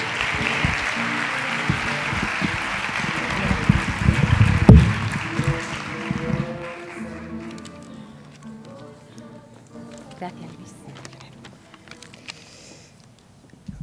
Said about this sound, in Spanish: un fuerte aplauso ahora sí para él